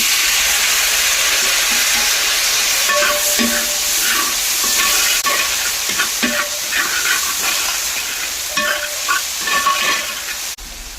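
Tomato masala for chicken biryani sizzles steadily in a hot pan, with occasional scraping stirs and bubbling across the whole stretch. There is no talking.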